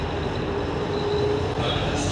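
Steady rumble and rush of a metro train in motion, heard from inside the carriage, a constant loud drone with a faint high whine running through it.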